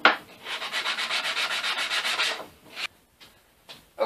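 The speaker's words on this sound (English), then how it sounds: "I'm going to do a little light sanding to clean up some of these edges" Light hand sanding along the edges of rough wooden trophies, a steady rhythmic back-and-forth rasp of about two and a half seconds, followed by a few short scrapes and pauses, close and fairly loud with no talking.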